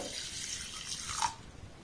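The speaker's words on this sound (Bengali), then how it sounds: "এবার চালটার মধ্যে দিয়ে দেব জল" Water pouring from a tap onto Gobindobhog rice in a bowl, a steady close splashing flow lasting under two seconds with a small bright plink near the end.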